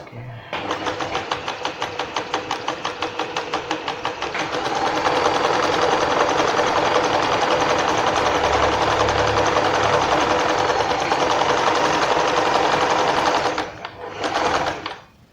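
A Janome 1122 EX sewing machine stitches a zigzag pattern, a loud steady rapid mechanical clatter that runs for several seconds, speeds up partway through and then stops abruptly near the end.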